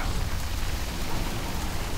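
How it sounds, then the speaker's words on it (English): Steady, dense rain pours down in the video game Shadow of Mordor, a constant broadband hiss with no voices over it. "That rain, though."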